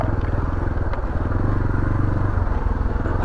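A 2019 Beta Alp 4.0 motorcycle engine runs steadily and close by, a continuous loud throbbing rumble with no speech over it while ridden on a rough lane.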